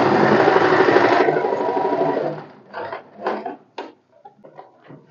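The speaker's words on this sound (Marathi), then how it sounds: "खाली एक फोल्ड करायचा, स्टिच करून घ्यायचा." A sewing machine runs a continuous stitching burst along the folded hem of a katori blouse, then stops and gives way to a few short mechanical clicks and fabric handling noises.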